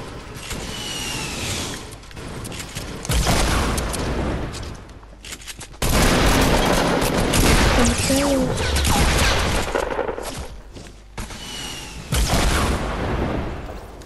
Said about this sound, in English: How the fuck are you shooting me?